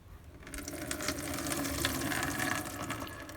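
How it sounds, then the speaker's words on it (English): Water splashes and pours steadily out of a container of sprouts being drained of rinse water, a continuous trickling rush close by with no voices. "So I'm just draining the water off"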